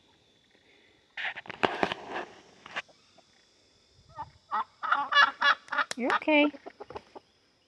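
A rooster and hens on a small goat farm give bursts of clucking and squawking, first a cluster early on and then a denser run of calls later, close by, with a short spoken remark between them.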